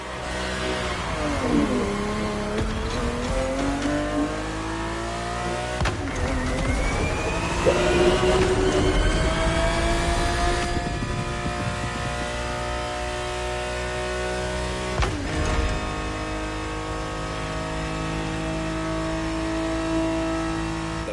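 Ferrari 365 GTB4 race car from the 1970s in a racing video game, its engine revving up and down repeatedly with rising and falling pitch through gear changes, loud and steady over about twenty seconds.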